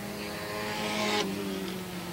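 A race car with a right front tire down and pointing the wrong way after contact with another car, limping back toward the garage area at a dirt track: a steady engine drone, loudest about halfway through and then easing off.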